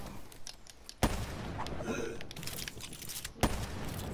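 Gunfire in a Black Ops 3 free-for-all match, two sharp loud shots standing out over a busy background of quieter game sounds and rapid clicking.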